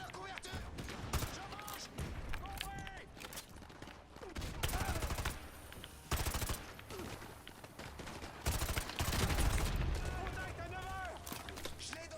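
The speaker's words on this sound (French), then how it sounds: "Je tire un peu partout." Rapid bursts of video game gunfire in an attack on a forest house, repeated volleys mixed with footsteps and a voice talking throughout.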